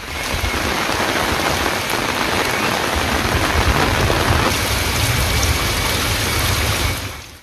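Heavy monsoon rain pours down in a dense, steady hiss of drops striking surfaces, loud and unbroken for several seconds before easing slightly at the end, with no voices.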